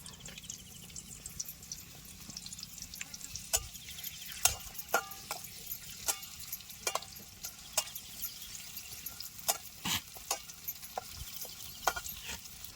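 Spices frying in hot oil for a spicy soda kalvan curry, a steady low sizzle broken by sharp clicks and crackles of stirring, close and fairly quiet, with no voices.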